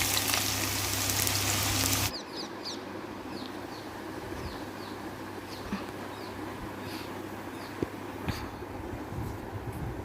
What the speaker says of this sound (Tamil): எண்ணெய் நல்லா காஞ்ச அப்புறம் வெங்காயம் போட்டு நல்லா வதக்கிக்கலாம்